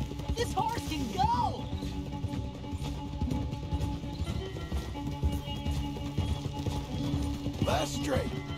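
A horse gallops at speed in the Red Dead Redemption 2 video game, its hooves drumming in a quick, continuous clip-clop under game music and riders' voices talking.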